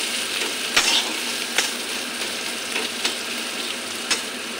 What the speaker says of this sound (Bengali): রসুন আর পেঁয়াজটা ভালো করে ভাজা করে নিই।